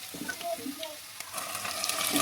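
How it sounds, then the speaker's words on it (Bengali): Onion frying with chana dal in a pan for an egg curry, a steady close sizzle with brief stirring scrapes and clinks, alone without talk. "আমি ডিম রান্নার জন্য ছোলার ডাল দিয়ে পেঁয়াজটা লাল লাল করে ভেজে নিচ্ছি"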